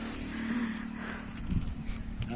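A cow at a village home gives a clear, drawn-out moo up close, followed by softer low grunting, with steady background noise and no talk.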